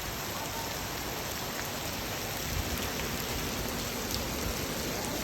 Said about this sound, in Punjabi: ਇੱਕਦਮ ਪੂਰਾ ਤੇਜ਼ੀ ਨਾਲ ਮੀਂਹ ਸਟਾਰਟ ਹੋ ਗਿਆ